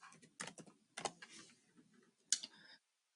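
A computer keyboard clatters in short, quiet bursts of key clicks separated by pauses, close and dry with no talking.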